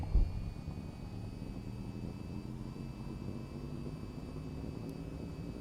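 Aircraft engine in the flight game VTOL VR throttles up for takeoff as a steady, low, droning rumble that is moderately faint throughout.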